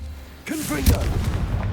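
A Confringo blasting curse detonates in the Hogwarts Legacy video game, a heavy booming explosion with a rumbling low-end tail, preceded by a brief voice.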